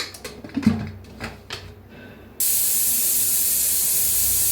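A few soft clinks, then a loud, steady pressure cooker whistle bursts in and keeps hissing without a break, with chickpeas cooking inside.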